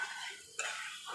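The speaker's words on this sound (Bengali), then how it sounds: "এটা ভালো মতো করে আর একটু নাড়াচাড়া করতে হবে 5 মিনিট" Masala for prawn malai curry being stirred in a kadai as the oil separates, a brief, quiet scrape of the spoon over a faint sizzle, with no talk.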